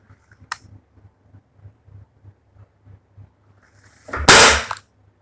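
An ASG CZ P09 CO2 air pistol firing pellets: one sharp crack early, a faint rhythmic mechanical ticking, then a louder burst-like shot with a hissing release near the end.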